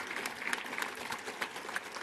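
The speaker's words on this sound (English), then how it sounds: "Let's give them a round of applause." Convention-hall audience at a Saskatchewan NDP event applauding the organizers, a steady patter of many hands clapping, moderately distant and even throughout.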